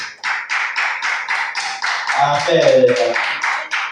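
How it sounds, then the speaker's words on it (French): A church congregation claps steadily during a French-language prayer service, giving a loud, even rhythm of quick claps at close range while a voice speaks and calls out over them. "Applaudissez le Seigneur."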